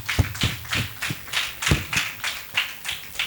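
Hands clapping at a ceremony launch in Benin, an irregular run of distinct claps fairly close and moderately loud, with no voices over them.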